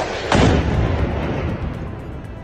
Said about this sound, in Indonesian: Hamas mengakui telah menembakkan rangkaian roket ke beberapa kota di selatan Israel